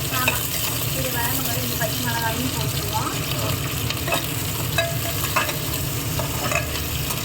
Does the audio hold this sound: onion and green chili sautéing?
yes